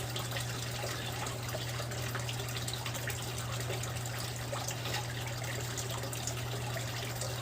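Liquid pours steadily into plant water from a capful of hydrogen peroxide, a continuous soft trickle and gush heard close and alone for several seconds.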